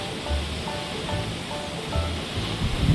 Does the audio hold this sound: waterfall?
yes